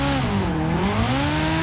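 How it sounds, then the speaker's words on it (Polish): A 1980s car's engine revs steadily and loudly in Forza Horizon 4, a continuous rising and falling drone with no talk over it. "Ale dźwięk ma ten samochód fajny."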